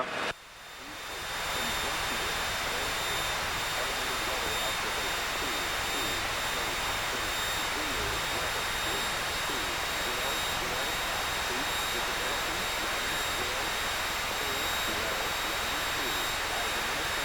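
Piper Cherokee 180 single-engine airplane taking off from Beaufort Executive Airport runway 25, a steady loud engine drone heard from inside the cabin that swells in the first seconds and then holds constant.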